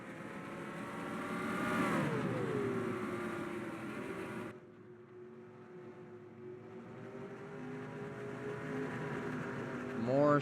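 Race cars speed past at a Nashville track during RMS heats, a loud engine roar rising and falling as a car sweeps by, then a steady, more distant drone from the field, with a commentator talking over it.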